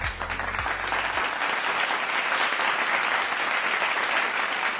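A seated audience at a Newcastle Helix BrainFood public talk breaks into steady, even applause that carries on at a constant level, with a brief low tone at the very start.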